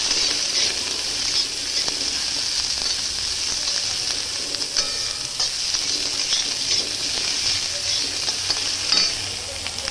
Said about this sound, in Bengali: পেঁয়াজ কাঁচা লঙ্কাটাও ভেজে নেব